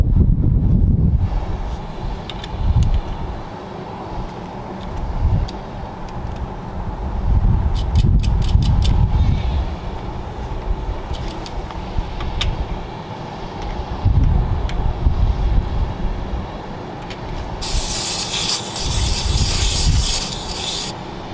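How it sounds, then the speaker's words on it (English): Wind buffets the microphone outdoors in heavy, uneven gusts, with rumbling low gusts and rasping hiss throughout, and no voices. "it's a little windy out here"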